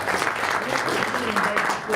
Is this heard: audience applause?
yes